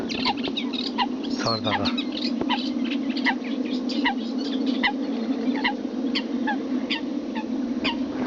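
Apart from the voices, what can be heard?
coot call played from a hunting decoy caller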